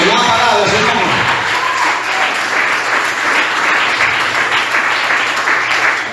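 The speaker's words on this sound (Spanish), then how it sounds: "un fuerte aplauso" A church congregation breaks into strong applause during a Christian sermon, dense continuous clapping that fills the room, with some voices at the very start.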